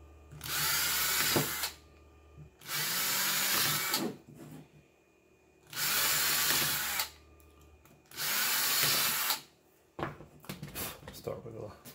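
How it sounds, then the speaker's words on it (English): A power drill fitted with a smaller bit bores bolt holes for a hoverboard-to-wind-turbine conversion. Four loud, close whining bursts of a few seconds each are separated by quiet gaps, followed by scattered handling clatter. "Start with a little bit smaller drill bit."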